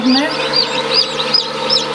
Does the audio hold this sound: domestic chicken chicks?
yes